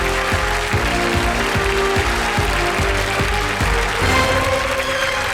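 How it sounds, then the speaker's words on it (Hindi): Studio audience of a televised quiz show claps in sustained, loud applause with a steady dense texture, lasting throughout without speech over it. "तालियां बजाएं इनके लिए।"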